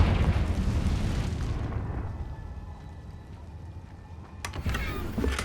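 Fiery blast from the Confringo spell in Hogwarts Legacy: a loud, broad rumbling burst that decays over about two seconds, followed by a quieter lull and a second sharp crackle near the end.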